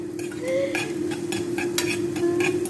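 Mushrooms with garlic cook in a pan, a soft steady sizzle under repeated scraping and clinking strokes of a utensil stirring against the metal, close up, with no speech.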